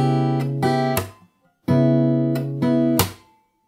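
Slow fingerstyle guitar playing of a jazz standard, two unhurried phrases of plucked chords and ringing notes separated by a short pause, close and clear with no talking.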